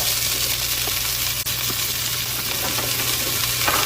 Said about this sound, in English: Onions and more onions, and we're just gonna throw them all in here.